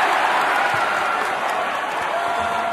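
A college basketball crowd at a Lehigh versus Northwestern men's game roars and cheers steadily, a loud, sustained wash of arena noise with no pause.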